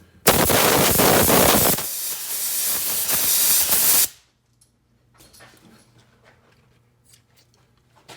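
A loud, steady hiss of compressed air blows out the threads of a Thompson/Center Black Diamond receiver cap for about four seconds, then stops abruptly and leaves faint handling noises.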